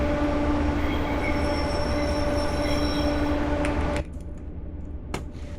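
A train in the British Railway video game rumbles along with a steady drone and squealing wheels, then cuts out abruptly when it stops, leaving only a low hum and a few faint clicks.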